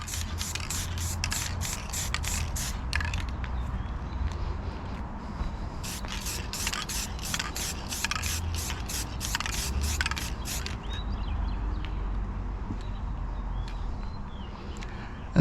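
Short bursts of spray paint hissing onto the spinner of an E-Flite Carbon Z Cessna 150T model plane, a dozen quick puffs in two clusters separated by a pause, close and steady.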